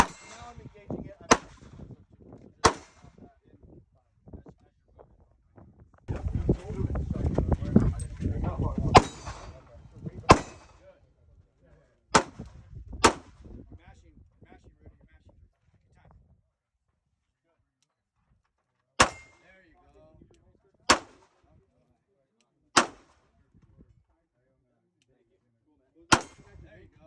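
Pistol shots fired at a target on a tactical shooting course: sharp, loud single reports spaced out over the stretch, with a steady series of evenly timed shots near the end and a voice talking between them.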